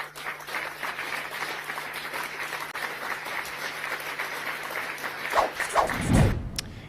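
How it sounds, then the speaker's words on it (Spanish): Audience applause for Argentine president Milei during a speech, a steady wash of clapping running throughout, with a few louder thumps near the end. "Y lo aplauden"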